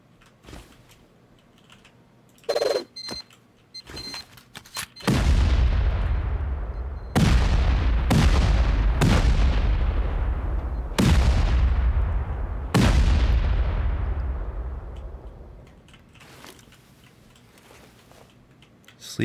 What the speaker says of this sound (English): Let's keep going with rockets.